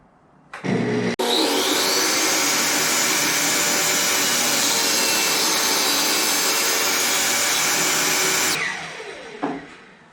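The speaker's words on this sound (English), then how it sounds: "it's time to do a quick test cut to see if that dado is sized appropriately" A table saw dado blade cutting a scrap 2x4, a sharp switch-on click, then a loud steady whining cut for about seven seconds, winding down at the end.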